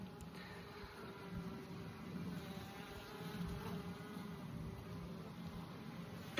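Honey bees buzz around a caged queen as she is introduced to the colony, a faint, steady, continuous hum with no voices.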